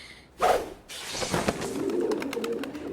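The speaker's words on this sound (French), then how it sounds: "Des pigeons?" Pigeons coo in low, soft rolling calls, fairly close, with a brief flutter or scrape at the start and steady background noise.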